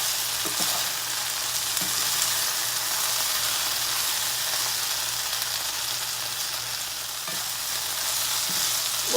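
Food browning in a hot pan, a continuous bright frying sizzle, with occasional soft scrapes and knocks as it is stirred, close and steady.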